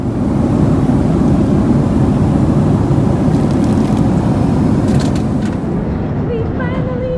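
Loud, steady airplane cabin drone on a long flight to Hawaii, a constant low roar with faint clicks and chimes near the end and no clear talking.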